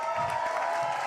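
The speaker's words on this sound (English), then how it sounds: "A round of applause." Applause from a gathered audience at a wealth deities invocation ceremony, a soft steady patter of many hands held at a fair distance, running briefly under a sustained tonal hum.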